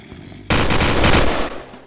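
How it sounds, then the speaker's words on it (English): Loud gunfire in a Minecraft Crafting Dead game, a sudden dense burst of rapid shots lasting about a second before trailing off. "Oh, nope, they're shooting. They're opening fire."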